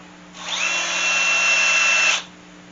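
A power drill drives number 8 screws into the glued lap joints of a wooden Salish loom frame. It makes one steady, close whine of about two seconds with no other sound.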